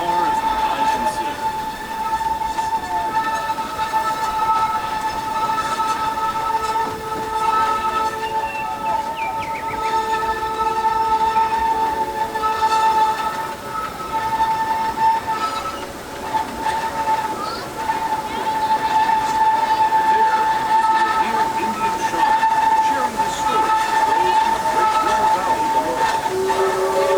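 Disneyland Railroad train rolling steadily on its rails with a constant rumble, a sustained whistle-like tone and scattered clanks, heard from on board while a narration voice talks over it.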